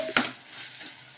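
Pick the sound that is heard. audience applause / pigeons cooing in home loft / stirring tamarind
stirring tamarind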